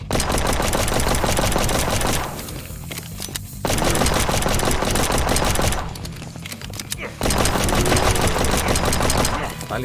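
Dense automatic gunfire from a weak weapon in a zombie defense shooter game, in loud sustained bursts that pause briefly twice, with someone talking over the shooting.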